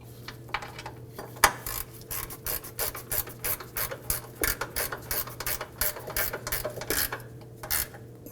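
Ratcheting clicks and metallic scraping as bolts are snugged down on the fuel pump module of a 2015-2020 Ford F-150 2.7L V6, irregular bursts over a low steady hum, close by with no talking.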